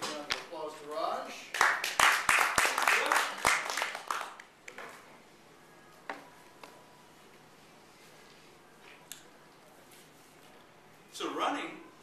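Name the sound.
audience applause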